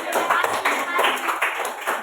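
A classroom audience claps for a student group, giving a steady patter of many hands, moderately loud and close, with some speech mixed in.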